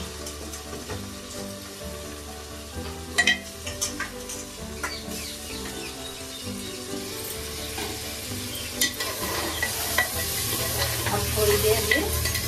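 Mutton trotters (paya) frying with turmeric in a pan, giving a steady sizzle with stirring scrapes and clatters throughout, rising slightly louder toward the end.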